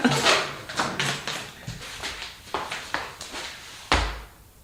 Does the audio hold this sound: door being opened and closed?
yes